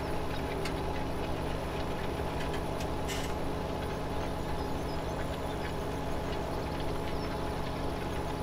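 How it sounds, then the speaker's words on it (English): The old Cummins engine of a Gleaner combine in Farming Simulator 17 idles in a steady low diesel drone with a constant hum, unbroken and alone without any talk. "Get to hear the old Cummins engine."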